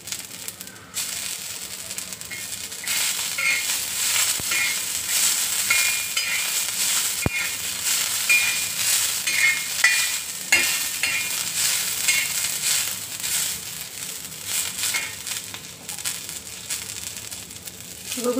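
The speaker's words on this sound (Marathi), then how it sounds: "छान असं भाजून त्यातच टाकूया कोथिंबीर." Ground masala of sesame, niger seed and peanuts dry-roasting in a pan for a brinjal curry, with a steady soft sizzle and repeated scraping stir strokes close by, no talking.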